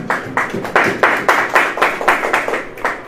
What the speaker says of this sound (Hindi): ताली बजाएंगे आपको?